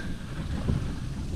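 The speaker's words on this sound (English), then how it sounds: "kind of windy." Steady wind buffets the microphone outdoors on a lake during kayak fishing, a low, rumbling roar that continues throughout without pause.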